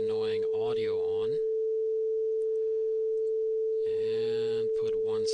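A diffraction physics applet emits a steady, pure electronic tone that holds unbroken for the whole stretch, with a person talking over it at the start and again near the end.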